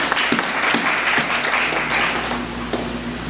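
A church congregation claps in praise during a sermon, a full, sustained round of many hands with a few sharper claps standing out, filling the room without speech over it.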